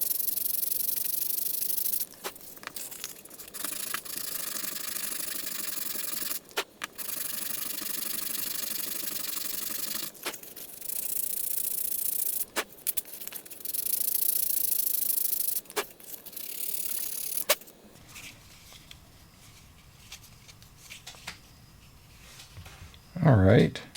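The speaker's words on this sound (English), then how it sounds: "I'm going to come in with a little sandpaper, do a nice final hand sand on it" A wooden glide bait fishing lure being hand sanded with sandpaper, steady hissing rub strokes in long back-and-forth passes with short breaks, close and fairly loud, ending with a few handling knocks.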